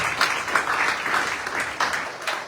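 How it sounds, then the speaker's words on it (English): Audience applause at an anti-corruption dialogue event, a steady wash of many hands clapping that swells and dips slightly throughout, moderately close with no talk over it. "let's give a hand of applause for our candidates"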